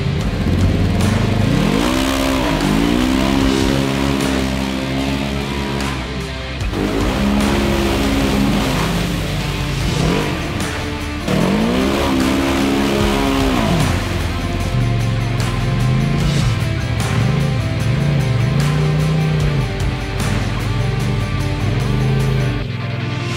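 A 4WD truck stuck off-road on a Woodhill sand trip revs hard in repeated loud surges, engine pitch climbing and dropping in several rising bursts of a few seconds each with brief lulls between.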